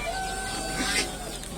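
Chickens cluck and murmur through a busy, noisy poultry market in Sakarya, Turkey, with a steady background hum and indistinct voices.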